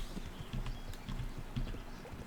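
A horse's hooves clip-clop at a steady walking rhythm on a road in Kingdom Come: Deliverance, faint and fairly close, with no talk over them.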